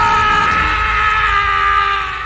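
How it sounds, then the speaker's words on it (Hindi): A man's loud, sustained scream in bushes rings out close and strained, holding steady for about two seconds before tailing off slightly, alone without other voices. "और झाड़ियों में उस आदमी की चीख गूंज गई"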